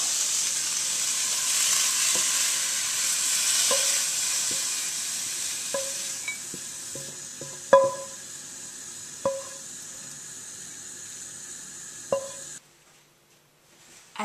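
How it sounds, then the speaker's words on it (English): Courgette spaghetti sizzles steadily in a frying pan while a utensil stirs it, with intermittent clinks and scrapes against the pan, before the sizzle cuts off abruptly near the end. "Give it another stir just to check"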